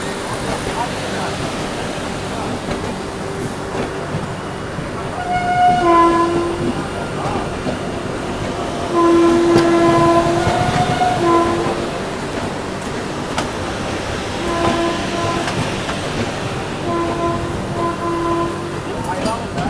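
Patna–Gomti Nagar Vande Bharat Express train passing on Indian rail, a steady rumble with clattering wheels and several horn blasts rising and falling near the middle of the pass.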